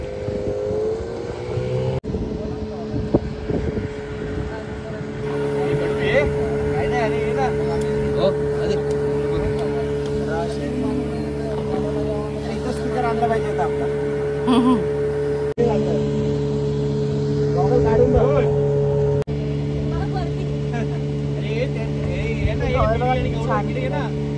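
Motorboat engine droning steadily while travelling on Karli creek near Devbag, a loud continuous hum under people talking and occasional wind buffeting.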